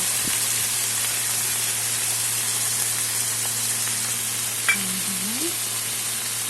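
Banana flower, green chillies, ginger and potatoes frying in a pan, a steady close hiss of sizzling oil with a faint stir or clink near the end, no talk.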